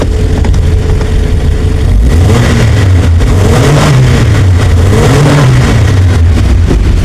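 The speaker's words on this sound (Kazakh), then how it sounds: "Газ беріп. Так, оборот беріп көреміз." A GAZelle van engine freshly given a valve adjustment revs up repeatedly, rising and falling in several strong pulls over a steady running hum, loud and close with no talking.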